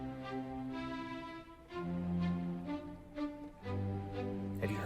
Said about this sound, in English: he wrote this thing called the Surprise Symphony